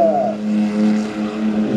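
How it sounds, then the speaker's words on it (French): A tractor engine drones at a mud-crossing race event in Villeneuve-de-Marc, a steady tonal hum with a shifting pitch, heard at moderate distance. "Julien Morel avec le retour du tracteur au trou noir"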